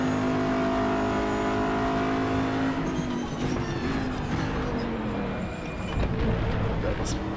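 A Group 5 race car at Road America in the RaceRoom racing game, engine note dropping sharply under hard braking with downshifts and tire noise, loud and close, with a voice talking over it.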